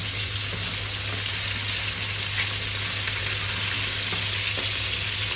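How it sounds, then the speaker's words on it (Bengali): Chicken pieces fry in hot oil in a pan, a dense, steady sizzle that stays loud and even throughout, with faint stirring clicks and no voices. "তো মুরগি ভাজবো"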